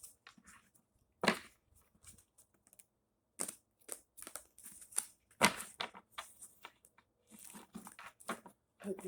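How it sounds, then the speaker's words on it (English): A Light Seers Tarot card deck is shuffled by hand in close, quiet bursts of crisp flicking and riffling, separated by short pauses. "Give it a little shuffle."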